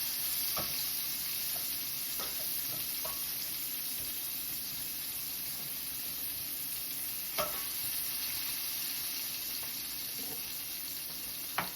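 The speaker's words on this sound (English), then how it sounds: "while that is sauteing" Food sautéing in a skillet after shrimp has cooked, a steady close sizzle and hiss running throughout, broken by a few faint clinks of a utensil.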